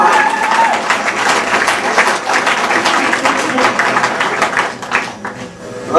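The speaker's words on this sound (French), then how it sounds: "je vous demande de l'applaudir très fort" Crowd of spectators applauding loudly for a performer, fast dense clapping that holds for several seconds, with a few voices calling out under it.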